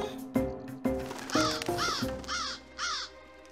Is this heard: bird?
yes